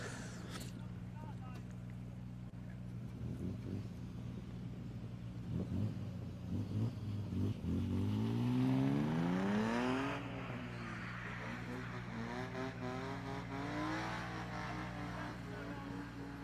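A drift car revs at the start line of a British Drift Championships Pro 2 battle at Driftland, its engine rising and swooping through repeated revs as the tyres are rewarmed, with a loud steady rumble underneath and commentary talk over it.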